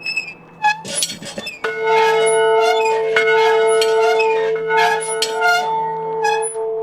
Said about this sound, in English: The prison rang the bell.